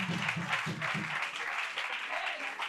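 A church congregation applauds during a French-language sermon, a dense, sustained wash of clapping from many people in a hall. Voices and cheers are mixed in underneath.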